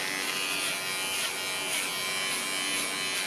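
Quiet electric hair clipper buzzing steadily while trimming fur on a dog's face during home grooming, a continuous soft hum with slight wavering and no voices.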